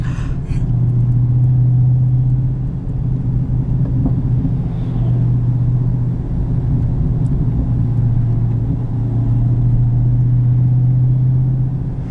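A 2018 Dodge Demon's engine drones loud and close from inside the car while coasting off the throttle, a steady low rumble that swells slightly without sharp pops.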